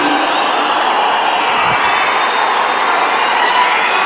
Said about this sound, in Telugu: పవన్ కళ్యాణ్ ప్రమాణ స్వీకారానికి రాగానే చప్పట్ల మోత మోగింది